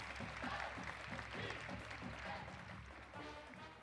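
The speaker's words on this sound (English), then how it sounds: "let's have another round of applause for our student athletes from Lakeview Centennial High School" Audience applause at a high school signing day ceremony for student athletes from Lakeview Centennial High School, a steady wash of clapping with low murmuring crowd noise underneath throughout.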